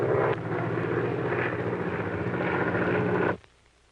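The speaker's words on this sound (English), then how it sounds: "Another plane has been following us for the last 150 miles." A propeller airplane engine drones steadily in flight with a loud, close, continuous roar and low harmonic hum, then cuts off abruptly near the end, leaving near silence.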